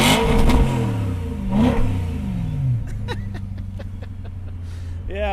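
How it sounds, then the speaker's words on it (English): A 2013 BMW M3 Convertible fitted with an M Performance muffler revs up through a couple of rising exhaust sweeps, then settles to a steady idle while people laugh and talk nearby. "let's hear this exhaust. Okay, let me show you what this baby's got. So this is an M Performance muffler."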